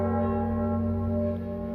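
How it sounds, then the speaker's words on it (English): A single deep cathedral tenor bell hums with a long, sustained ring, its rich overtones slowly fading, in Trieste. "it seems there's one big tenor bell that's making this fantastic sound"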